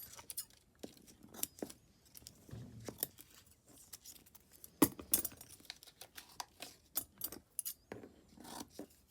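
Scissors snip paper for a junk journal, a series of sharp close clicks and rustles scattered irregularly, with quiet handling sounds between cuts and no talk.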